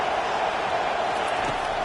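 A football stadium crowd makes a steady, dense roar at a moderate distance. The wash of noise stays even and unbroken for the whole short stretch.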